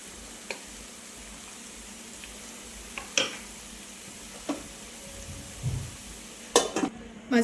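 Spicy Telangana-style chicken fry roasts in a pan with a soft, constant sizzle, broken by a few sharp clinks and scrapes of a spoon against the pan.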